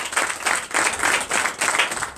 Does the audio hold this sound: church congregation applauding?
yes